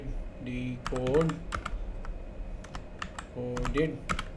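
Fingers tap out code on a computer keyboard in short, quick bursts of clicking, heard under someone speaking Hindi.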